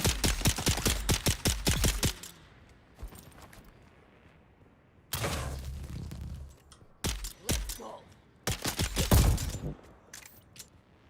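Video game gunfire, rapid bursts of sharp repeated shots in several clusters separated by quieter gaps, fairly loud and close.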